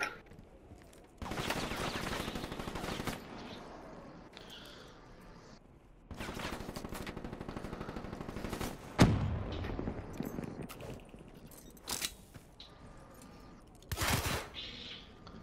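Bursts of automatic gunfire in Call of Duty: Black Ops III, loud volleys of rapid fire around two seconds, six to nine seconds and fourteen seconds, with quieter gaps and scattered single shots between.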